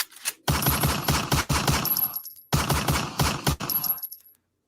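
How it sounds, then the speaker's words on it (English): Sound-effect gunfire comes in two loud bursts of rapid repeated shots, close and harsh, separated by a short gap, with a brief crack at the start and silence at the end. "Where the gunshots at?"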